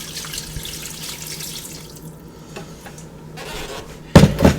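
Filtered water runs into a crock pot holding roasted bones, a steady splashing pour with a few louder knocks near the end.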